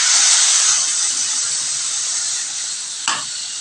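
A paste of ground cumin, chili, ginger, dried chili and tomato hits frying vegetables in a pan with a loud, bright sizzle that slowly eases, with a single stirring knock near the end.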